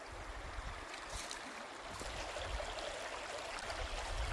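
Clear river water flows steadily near a cabin, a soft, even rushing wash with no voices over it.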